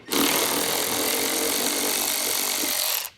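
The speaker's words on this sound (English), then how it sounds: "Go ahead with your 10 millimeter and get those removed." A power tool drives a 10 mm socket to remove the side panel screws on a 2024 BMW X5, giving a loud, steady whirring that runs for about three seconds and then stops.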